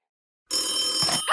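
An old telephone bell ringing suddenly out of silence, a loud, close, continuous metallic jangle that briefly wavers near its end.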